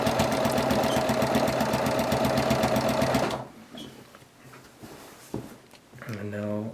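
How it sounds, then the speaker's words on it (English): A quilting sewing machine stitches fabric in a fast, steady mechanical chatter for several seconds, then stops, followed by quieter handling sounds and a person talking. "So I'll sew the rest of this right here."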